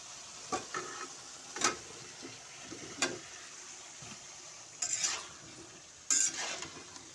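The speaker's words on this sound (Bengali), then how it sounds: "মশলার সাথে সুন্দরভাবে কলা আর এই কাঁচা মরিচ সুন্দরভাবে একটু নাড়াচাড়া করে মিশিয়ে নিব" Green banana pieces and chopped green chilies are stirred into fried spices in a pan, giving a low steady sizzle with several sharp scraping strokes of a spoon at irregular intervals, no voices.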